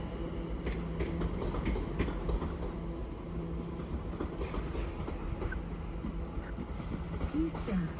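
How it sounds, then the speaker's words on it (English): A London Overground class 710 electric train departs Watford Junction for London Euston. It rumbles and clatters steadily at platform level with clicking wheels, and a voice speaks over it. "the 1400 London Overground service to London Euston, 710-379 takes it away"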